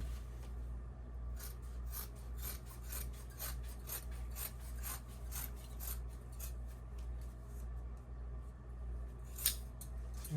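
Scissors cut fabric for a circle maxi skirt with faint, rhythmic rasping snips repeating steadily over a quiet low hum, close but soft.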